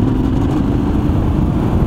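A Yamaha Tenere 700 (XTZ690 T7) motorcycle engine pulls steadily in fourth gear at fairly low revs, a continuous deep, close drone without talk.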